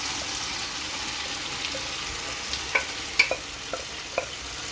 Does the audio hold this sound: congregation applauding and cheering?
no